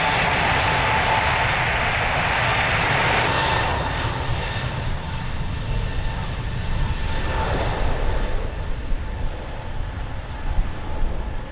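An airliner takes off from runway 02 at Lisbon Airport in windy conditions, its loud, steady engine roar dominating at first, then easing slightly and wavering as it pulls away, with no voices.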